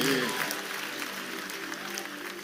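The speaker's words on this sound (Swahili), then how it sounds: "Tumpigie makofi mazuri." A church congregation claps together during a service where a bishop gives blessings, a dense, fairly loud round of applause that starts strongest and eases slightly, with a voice briefly audible at the start.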